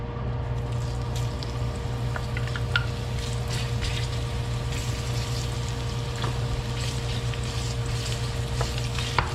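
Chopped onion fries in hot cooking oil in a pan for Filipino oxtail kare kare, giving a steady, close crackling sizzle with occasional small pops and a faint hum underneath, no voices.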